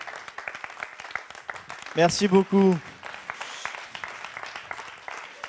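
An audience claps after a talk at a business presentation, scattered hand claps running throughout while a voice briefly speaks over them in the middle.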